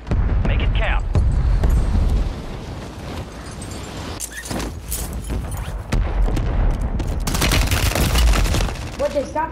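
Rapid automatic gunfire and bursts of shooting from a Call of Duty multiplayer match, loud and nearly continuous, with a gamer's voice talking over the shots at times.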